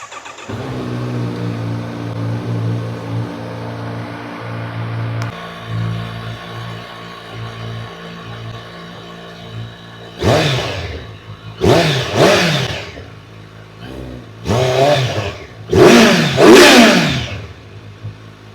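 A Kawasaki Z900 four-cylinder motorcycle idles with its raw exhaust, then gets revved hard in five sharp, loud throttle blips close by, each rising and falling quickly.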